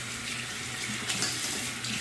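Water runs steadily from a tap into a sink while a shavette razor is rinsed, a close, constant splashing hiss with slight fluctuations.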